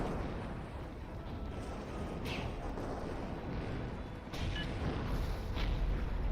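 Bombing explosions in the Zero-K video game: a continuous rumbling roar of blasts and booms, fairly loud and dense, with a slight surge partway through and no voices.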